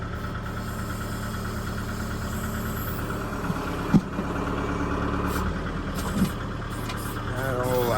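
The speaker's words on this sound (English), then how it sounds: "Let's see if the backhoe side of this has any strength to push this the rest of the way down the hill." A backhoe's diesel engine works steadily while pushing logs down a hill on a rural Missouri property, with a constant close drone, a couple of brief knocks and a slight rise in load near the end.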